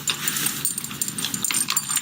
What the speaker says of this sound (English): I'm feeding my dog as of now, so if you hear that disgusting sound, it's because I'm feeding my dog dinner.